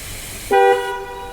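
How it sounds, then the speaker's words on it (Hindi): A single short car horn beep from a Mahindra Thar sounds clearly over quiet background, a bright tone lasting under half a second. "हॉर्न का बीप का साउंड बजा, लर्निंग शुरू हो गई ना।"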